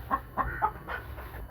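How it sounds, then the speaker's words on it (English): A hen clucks in short, separate calls while trying to lay eggs, fairly close with faint background noise and no talking. "This chicken here trying to lay eggs."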